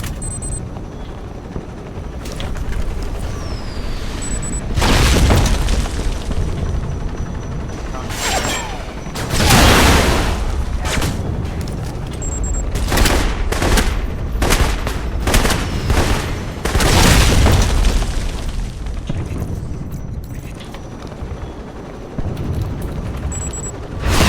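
Video game Alpha Protocol's firefight: bursts of loud gunfire and blasts hit repeatedly in clusters over a continuous noisy backdrop, with a few short high tones between volleys.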